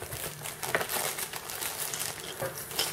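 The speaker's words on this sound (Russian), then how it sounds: "Сейчас вскроем, все проверим и посмотрим," A postal parcel from BEARKING is opened, its plastic packaging crinkling and rustling in a run of uneven crackles and scrapes close by, with no speech.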